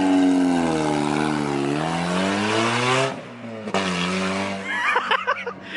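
A Mitsubishi Eclipse pulls away with a strong engine note that climbs, dips and climbs again as it shifts, then fades, with faint voices near the end.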